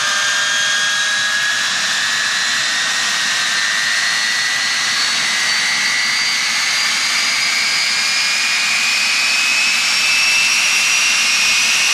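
A UH-1 Huey helicopter's turbine engine runs loud and close, a constant high whine over a dense airy rush, its pitch drifting slowly upward with no voices.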